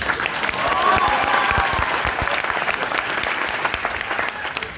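Workshop attendees in Satna break into sustained clapping, a loud, dense patter of many hands that swells early and then carries on evenly to the end.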